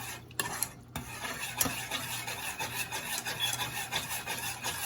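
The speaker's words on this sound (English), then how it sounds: "I'm just gonna keep stirring this in." A veggie lasagna mixture is stirred in a pan over medium-low heat, a continuous close scraping and rubbing with small knocks and no talk.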